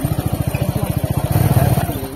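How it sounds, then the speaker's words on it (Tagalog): A motorcycle engine revs up close outdoors on farmland, a steady rapid throbbing pulse that swells slightly louder toward the end. "Umilipad yung motor ni Harvey."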